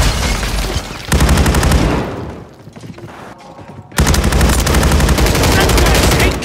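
Loud bursts of rapid machine-gun fire in a Call of Duty Modern Warfare 3 multiplayer match: a long sustained volley, a short lull with quieter shots, then another heavy stream of close, rapid shots.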